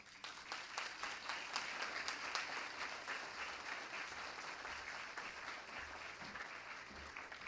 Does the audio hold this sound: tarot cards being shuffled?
no